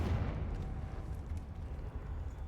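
The Confringo fire spell in the Hogwarts Legacy video game explodes as a deep rumbling boom with a heavy low burst that rolls on and fades slowly, loud and close, with no speech over it.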